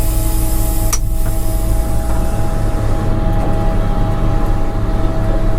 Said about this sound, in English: We'll go ahead and put the truck in drive, release parking brake.